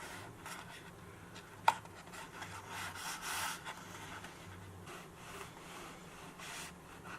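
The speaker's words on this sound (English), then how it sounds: "So I'm just also rubbing against the table to help" Soft, faint rubbing of a glued paper fireplace model pressed against a table, a steady scuffing with a few brief scrapes and one sharp tap near the start.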